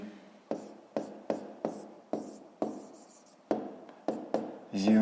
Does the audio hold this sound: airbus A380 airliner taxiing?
no